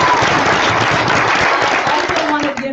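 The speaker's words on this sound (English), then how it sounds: "so let's give them a round of applause" An audience at a political candidate forum claps in a loud, dense round of applause that fades slightly toward the end, with crowd murmur mixed in.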